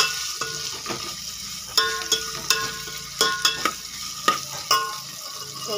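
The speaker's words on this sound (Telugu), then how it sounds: "సో ఇప్పుడు నేను దీంట్లో దొండకాయలు వేసేసాను, ఆనియన్స్ మగ్గిపోయినాయి." Onions and ivy gourd sizzle in a pan while being stirred, a steady frying hiss broken by sharp scraping clicks of the utensil at irregular intervals, close and moderately loud.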